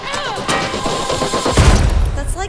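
Shots from the P-12K gun in the Rogue Company video game crackle in quick bursts, mixed into a busy backdrop of music and effects with a heavy low thump midway.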